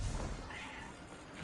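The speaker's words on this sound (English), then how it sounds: "Oh, there's a cat in that rusted out hulk of a truck." A cat meows in the Destiny 2 video game, a soft, short in-game meow heard alone against a steady wash of background game ambience.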